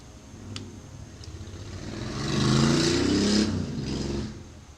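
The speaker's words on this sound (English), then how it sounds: "I can hear the cars, right? That's outside my window" Cars pass and rev on the street outside a window: a steady engine rumble swells into a louder acceleration midway, then eases off slightly, heard from indoors at moderate distance.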